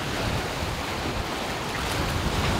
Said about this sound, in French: Le vent a pas mal forci, il y a 20 nœuds bien établis, des rafales à 30 nœuds.